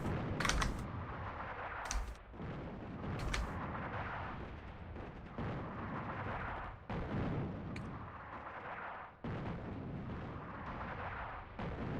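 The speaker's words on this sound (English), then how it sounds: "Keep the artillery pressure up on these guys. 2 lots of artillery will probably drop their morale." Artillery fire in the WWII North Africa strategy game Attack at Dawn rumbles as a continuous heavy barrage, with deep booms and a few sharp cracks, steady and fairly loud, with no voices heard.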